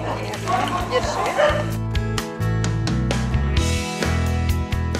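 Shelter puppies and dogs at feeding time, yipping and whimpering in an excited jumble close by, with a person talking over the noise.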